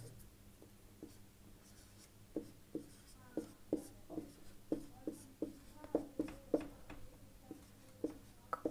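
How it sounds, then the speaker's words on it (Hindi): Marker or chalk strokes on a classroom board write out a geography memory trick, a quiet series of short scratchy taps and squeaks in an irregular rhythm, close up with no speech. "मैं यहाँ लिख रहा हूँ"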